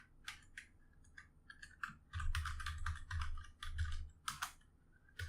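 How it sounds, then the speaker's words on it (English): Quick bursts of keystrokes on a computer keyboard clatter up close, steady and moderately loud, with brief pauses between runs and no talking. "oh, I don't like typing, man."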